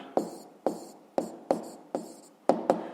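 Pen or pencil writing on paper during a 7th-grade physics exercise, heard as seven short scratchy strokes at a steady rhythm, close and fairly quiet, with no voices.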